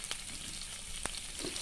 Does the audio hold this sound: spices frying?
yes